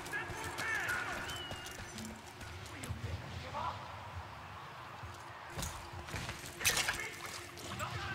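A steady rushing wash of waterfall noise in the video game Evil West, filling the background evenly while other in-game sounds and a voice come and go over it.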